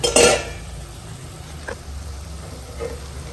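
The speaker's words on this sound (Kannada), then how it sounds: "ಈಗ ಲಿಡ್ ಓಪನ್ ಮಾಡೋಣ" A metal lid is lifted off a pot of cooked potatoes, giving a sharp clink at the start, followed by faint bubbling and a couple of soft utensil taps in a quiet kitchen.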